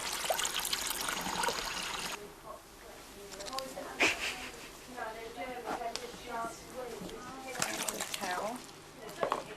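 Warm and cold water trickles and sloshes as it is poured and mixed together in a tub, close by, with a voice talking intermittently over it.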